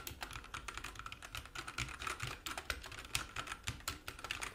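Continuous typing on a Xiaomi mechanical keyboard with red switches, a fast irregular patter of soft, fairly quiet keystrokes with no clicky snap, close up and alone.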